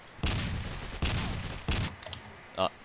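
A TMP submachine gun fires in the online shooter Blockade 3D, three loud bursts of rapid shots with short gaps between them, followed by a few smaller game sounds and clicks.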